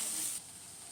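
Vegetables sizzle in a pan for pasta, a close, bright hiss that is loudest at first and then settles into a softer, steady frying noise.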